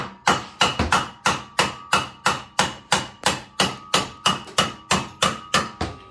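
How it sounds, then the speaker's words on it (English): A hammer strikes metal in a steady, even rhythm during an engine replacement on a Bad Boy Maverick zero-turn mower, about sixteen loud, close blows with a slight ringing after each, and no talking. "Hand me that hammer up there."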